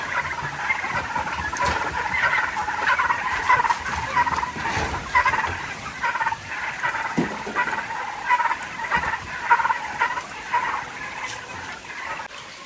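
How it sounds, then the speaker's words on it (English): Turkeys gobble repeatedly in fast, warbling bursts from a flock at moderate distance, the calls overlapping through a steady outdoor wash with light pattering. "morning, turkeys."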